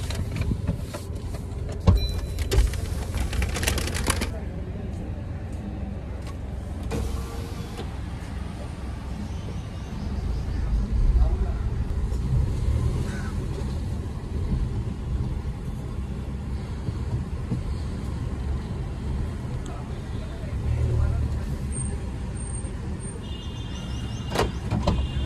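A Maruti Wagon R car arriving, its engine a steady low rumble throughout with a few clicks and thumps, while people talk faintly nearby.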